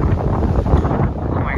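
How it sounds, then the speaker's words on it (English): Strong wind from a wind tunnel attraction aboard a cruise ship blasts across the microphone in a loud, continuous rushing roar with gusty low buffeting. "Oh wow, this is a big time wind tunnel."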